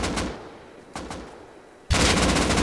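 Loud video game gunfire in a first-person shooter, with sharp shots near the start and middle, then a sustained heavy burst of automatic fire closing the clip; no voices.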